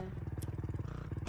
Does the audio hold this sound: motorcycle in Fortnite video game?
yes